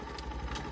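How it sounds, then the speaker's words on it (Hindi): A motorcycle engine idles low and steady with a faint mechanical clatter as the throttle is eased off, a brief close sound with no speech. "रेस कम कर दिया और बिल्कुल बाइक धीरे हो गया"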